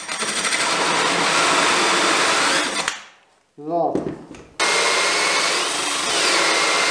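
Electric drill boring through a desk top with a drilling template, a loud continuous whirring grind that stops briefly, with a short spoken word in the gap, then resumes at full power.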